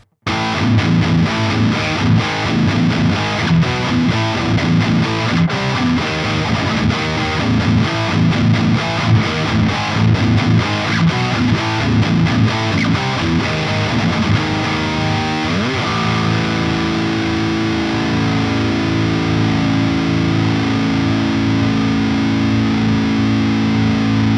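A Gretsch G5260 Electromatic Jet baritone electric guitar played loud through heavy distortion, with dense chugging low riffs for most of the passage, then sustained ringing chords near the end, steady and continuous with no voices.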